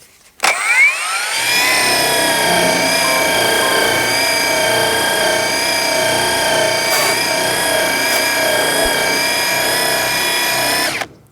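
A Seesii 80 grit fibrous surface conditioning wheel on a power tool spins up with a rising whine, then grinds steadily against an old piece of aluminum in a loud, sustained tonal drone before winding down at the end.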